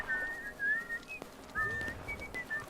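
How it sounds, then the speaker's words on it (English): A player in the Civil War game War of Rights whistles the Bonnie Blue Flag tune, clear melodic phrases with short pauses, fairly close over a quiet background. "who's the traitor whistling Bonnie Blue Flag?"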